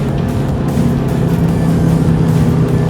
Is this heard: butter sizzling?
no